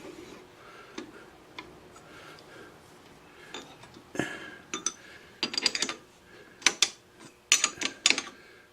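Metal jaw of a four-jaw lathe chuck being loosened, giving scattered ticking and ratcheting clicks that grow denser and louder toward the end, with faint workshop background.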